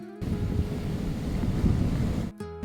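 Ocean waves breaking at the beach in Aghrout near Agadir, Morocco, a loud rumbling wash of surf, with heavy wind buffeting the microphone, ending abruptly into a short burst of other sound.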